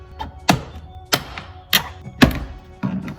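Plastic trim clips popping loose as a door panel is pried off a 2007 Nissan Xterra, five sharp hollow snaps and thunks spaced about half a second apart, close and loud.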